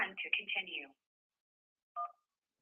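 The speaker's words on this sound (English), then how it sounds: "So I click dial. It's dialing my phone, right?" A phone dialing out on a call gives a single short electronic beep that stands alone in silence, after a brief burst of voice.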